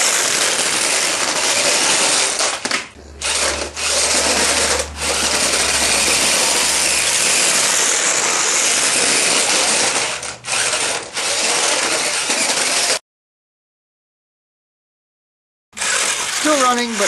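Electric rover motors run on an 18-volt battery with a loud, dense mechanical whine and rattle. The sound dips briefly a few times, cuts out completely for a couple of seconds, then resumes.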